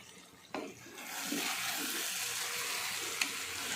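Water poured into a vegetable curry of brinjal, broad beans, drumstick and tomato: a sudden clatter, then a steady rushing, sizzling pour that holds at an even level until a small knock near the end.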